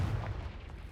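Confringo fire spell blast in the video game Hogwarts Legacy, a dense, sustained booming burst of explosive energy filling the whole second with heavy low rumble and no gaps.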